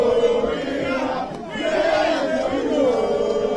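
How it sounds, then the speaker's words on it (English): A large, unruly crowd shouts at a polling station during an election in the Bole Bamboi constituency, a dense, loud roar of many voices with swelling cries throughout. "The crowd is getting really uncontrollable. It's an uncontrollable crowd."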